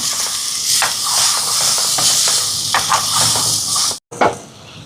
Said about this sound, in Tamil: இங்கே பாருங்க இஞ்சி பூண்டு வதங்குது